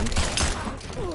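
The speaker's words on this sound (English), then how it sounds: "That's like 4 or 5 shots, point blank, man." Point-blank gunshots in the fighting game Mortal Kombat X, a rapid burst of several heavy, close blasts packed into about a second, loud and dense.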